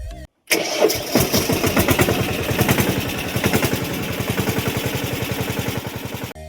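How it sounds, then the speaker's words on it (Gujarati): A tractor's diesel engine cranks on the self-starter at a farm, catches after a brief silence and settles into a loud, close, rapid knocking idle, with no voices. "પછી આપણે મારી દીધો ટ્રેક્ટરમાં સેલ્ફ"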